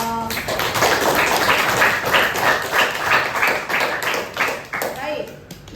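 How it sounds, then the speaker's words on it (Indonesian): Students clapping in a classroom, a steady round of lively, close applause from a small group that carries on for several seconds, with a few voices talking over it. "Beri aplaus dong."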